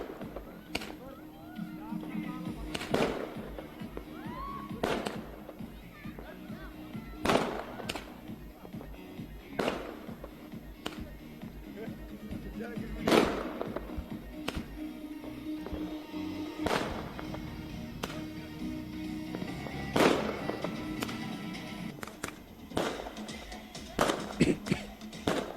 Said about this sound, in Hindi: नए साल की आमद के मौके पर आतिशबाजी भी देखी गई।